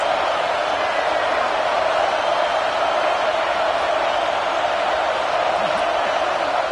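A stadium crowd at a college football game roars in a steady, loud, sustained wash of cheering without pause.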